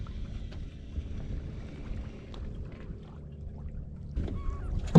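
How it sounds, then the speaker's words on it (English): Steady wind buffets the microphone on a cold, windy winter day of about 30 degrees out on a lake, a low continuous rumble with faint lapping and a louder gust near the end. "don't mind the wind on this video. It is a windy, cold day."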